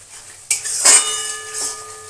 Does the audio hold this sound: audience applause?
no